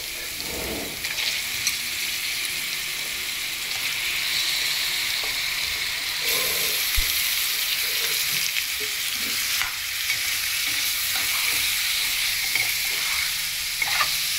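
Chicken pieces frying in ginger garlic paste crackle and sizzle loudly up close, with occasional stirring scrapes over a steady frying hiss and no voices.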